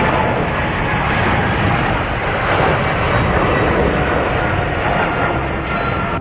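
Toy airplane sound effect, a loud, steady roaring engine drone that fills the whole stretch without a break.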